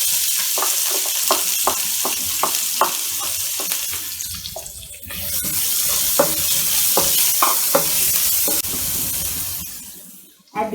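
Half a large onion sizzles and crackles steadily in a hot pan for egg noodles, with repeated sharp scraping taps from a spatula stirring throughout and a brief quieter pause midway.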